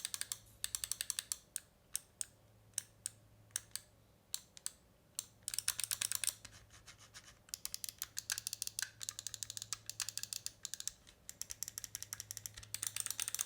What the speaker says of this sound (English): as far as the sound of the buttons, very crispy across the entire mouse